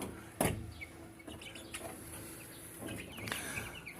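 Chicks chirping and peeping in a poultry house, suffering from heat and poor ventilation; faint scattered cheeps and a few louder calls over a low background hum, without talk.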